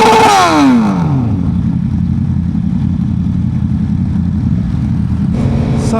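A motorcycle roars loud and close, with a falling pitch sweep in the opening second as it shifts up, then a steady throaty drone while riding on the road toward a fuel stop.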